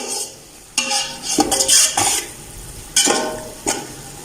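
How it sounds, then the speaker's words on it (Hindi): Spoon stirring chilies and spices in a pot for chicken matar pulao, with several loud scraping strokes and clinks against the metal, alone without talk. "जो हमारी मिर्च है वो बहुत अच्छी तरह, और मिर्च बहुत अच्छी तरह मिक्स हो जाए"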